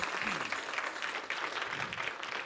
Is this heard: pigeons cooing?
no